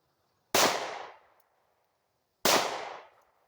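Two loud, sharp 9mm Glock pistol shots about two seconds apart, each a close, cracking blast followed by a short fading echo, with silence between.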